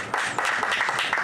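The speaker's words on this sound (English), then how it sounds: "if everyone could give her a round of applause" A live audience breaks into applause, a brief, dense wash of clapping heard at moderate distance with no talk over it.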